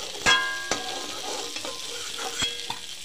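Rohu fish frying in oil in a pan, a quiet steady sizzle broken by a few sharp scraping clatters from stirring, with no voices.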